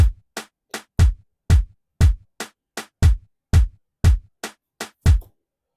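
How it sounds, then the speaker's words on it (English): Clap drum sample for an Afro House beat, about a dozen sharp, punchy hits in a steady rhythm with short decaying tails, loud and alone with no other instruments. "And then we add in a clap."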